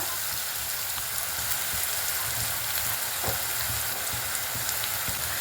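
Washed coriander seeds splutter noisily in a hot pan, a dense continuous crackling sizzle with scattered sharper pops, close and steady throughout.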